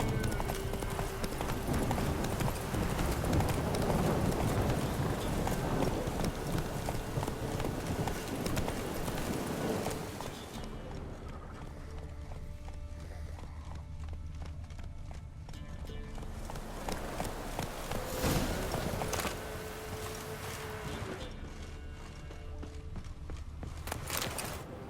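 Hooves of Roach, a horse in Witcher 3, clip-clop steadily and close, in a continuous walking rhythm that fades slightly midway and then returns, with no talk over it.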